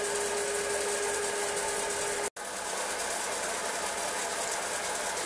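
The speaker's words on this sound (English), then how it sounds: "running at 540-550 RPM, which for a tiny lathe like this, that is pretty good" A Hobbymat 65 small hobby lathe runs under electric power at about 540-550 RPM, a steady mid-pitched motor hum with a brief cut-out partway through, then the same even drone.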